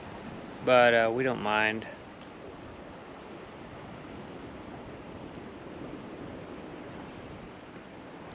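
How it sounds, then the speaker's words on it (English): Ocean swell rolls in at an anchorage off Parson's Landing on Catalina Island's West End, a soft, steady wash of surf and wind that continues after a brief spoken remark. "Still a steady swell rolling in"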